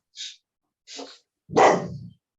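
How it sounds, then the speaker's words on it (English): A dog barks three times at close range, two short sharp yaps followed by a louder, fuller bark, with silence in between. "The dog."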